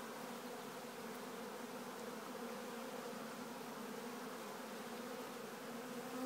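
A swarm of bees buzzes steadily and close, a dense, continuous drone with no pauses that holds at even loudness from start to finish, with no voices.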